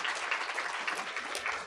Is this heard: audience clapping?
yes